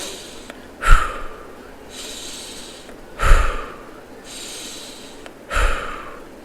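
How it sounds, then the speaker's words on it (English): Three slow, deliberate breaths, each a sharp, close nasal inhale followed by a softer exhale through the mouth, evenly spaced in a steady rhythm with quiet gaps between. "you should have a in through your nose, out through your mouth kind of concept"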